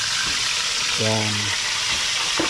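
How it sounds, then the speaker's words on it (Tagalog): Steady, loud sizzling of fish frying in hot oil fills the whole clip, with a brief tonal clatter partway through. "Prito muna tayo ng isda."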